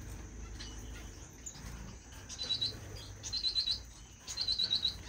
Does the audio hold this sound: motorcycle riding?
no